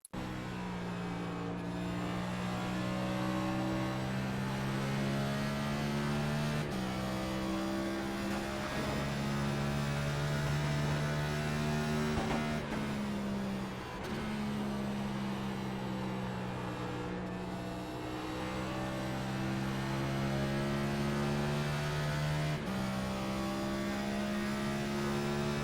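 NASCAR Cup car engine in the iRacing sim heard from the in-car view, a loud sustained droning roar holding high revs, briefly dipping and rising again as it shifts through corners on the last lap, no talk.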